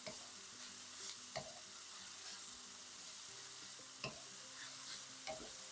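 Onions sizzle steadily in a stir-fry pan, a continuous crackling hiss broken by a few sharp clinks of a utensil against the pan, with no talking.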